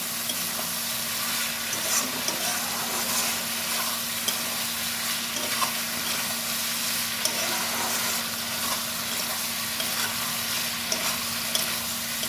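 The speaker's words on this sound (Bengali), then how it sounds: "এবার ভালো করে কুদলিগুলো পোস্ত দিয়ে ভাজা ভাজা করে নেব" Kudli fried and stirred with poppy seed paste in a pan produce a continuous soft sizzle with occasional scraping stirs, steady and close with no talking.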